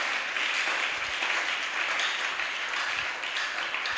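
A church congregation claps together in a dense, steady round of applause that holds at an even level for a few seconds, with faint voices mixed in.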